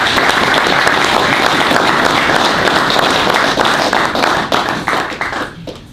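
Audience applause at a ceremony inside the Burbank Ice Arena in Reading, Massachusetts, dense sustained clapping from many hands that thins and fades out near the end.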